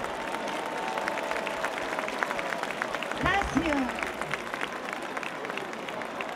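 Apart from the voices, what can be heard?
crowd applause at a Three Kings parade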